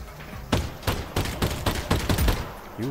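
Repeated gunfire in a virtual reality shooter built as a Half-Life: Alyx mod of the Facility level: about seven loud, sharp shots spaced at uneven intervals over a steady background hum.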